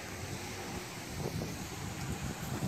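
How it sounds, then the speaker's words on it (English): Strong wind blowing outdoors, a steady broadband roar with gusty low rumbling buffeting the microphone throughout, with no talk. "It is so windy out today"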